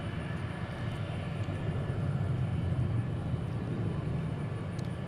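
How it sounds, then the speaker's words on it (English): An Airbus A321 jet taking off at DFW International Airport, heard from a distance as a steady, low broadband engine roar that holds constant throughout, with no talking. "we get another A321 Airbus taking off"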